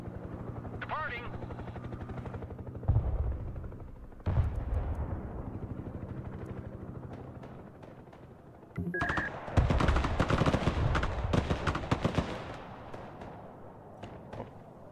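A Venom attack helicopter firing in the Broken Arrow war game, with rotor drone and bursts of rapid gunfire and explosions, loud and dense in the later half, and a voice speaking among the noise.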